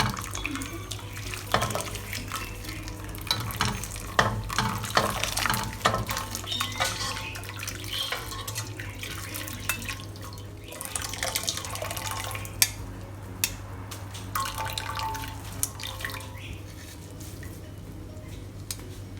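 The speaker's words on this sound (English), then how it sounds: "We will now remove the bonito flakes from this broth. Strain them up." Bonito-flake broth for Taiwanese oyster mee sua is strained, giving a continuous soft trickle and splash of pouring liquid with scattered drips and light clinks, fairly quiet and close.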